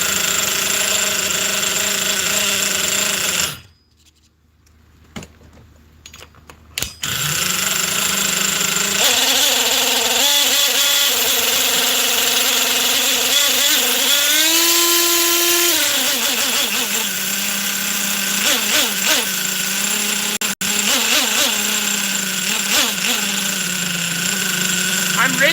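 A Force .25 CNC nitro model engine on its first run, buzzing loudly at a high, steady idle; it drops out briefly, then screams back up with some pitch wavering. Someone speaks over the noise.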